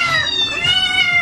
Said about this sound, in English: How do I take care of a freaking little kitten?